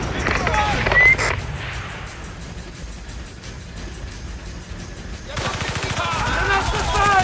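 A window shooter in the video game Battlefield: Bad Company fires on the player: a sharp shot early on, then a rapid crackling burst of automatic fire near the end, with faint game voices mixed in.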